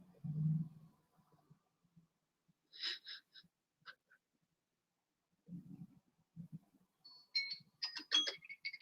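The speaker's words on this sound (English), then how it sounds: "that's my timer" A timer goes off with a couple of short, fairly faint electronic beeping bursts and a louder, denser run of beeps near the end, separated by quiet stretches and a few low, soft sounds.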